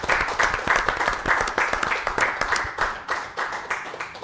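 A studio audience at a basketball-themed broadcast bursts into sustained applause, many hands clapping in a dense, even patter that holds strong and close, easing slightly toward the end.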